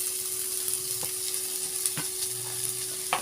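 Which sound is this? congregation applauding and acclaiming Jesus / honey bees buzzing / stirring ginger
stirring ginger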